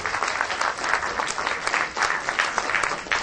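An audience claps warmly for dance performers at a stage event, dense steady applause close and full for the whole stretch.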